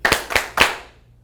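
Three sharp hand claps in quick succession from a group rehearsing a Trepak dance routine, close and loud, each ringing out briefly before fading.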